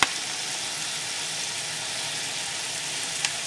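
Soy sauce and vinegar hit a pan of sautéed green pepper while making Gobi (cauliflower) Manchurian, producing a steady, loud, hissing sizzle that holds evenly throughout, with a faint clink near the end.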